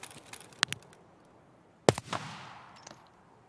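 Gunshots in the online shooter game Escape From Tarkov: a couple of sharp isolated cracks early, then a louder blast around the two-second mark with a short rattle of follow-up shots and a decaying echo, otherwise quiet.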